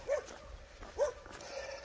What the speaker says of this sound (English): this dog's barking at me.